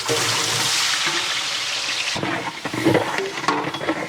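Twelve kilos of onions fry in a huge pot for a 30 kg chicken dum biryani, giving a loud steady sizzle that gives way to intermittent clattering with faint voices.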